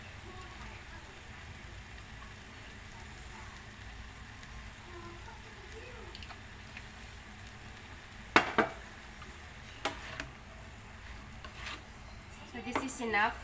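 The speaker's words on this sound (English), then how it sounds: "So now again, we have to saute this for another 2 minutes." Beef and vegetables sautéing with oyster sauce for a spring roll filling, a low steady sizzle with a few sharp utensil scrapes and clinks near the end, while a person talks briefly over it.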